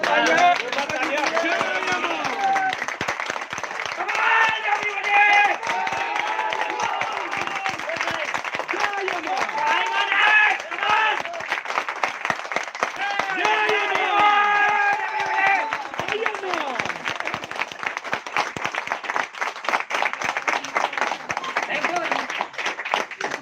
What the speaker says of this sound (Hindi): भाई जोरदार तालियां तो बजवाओ एक बार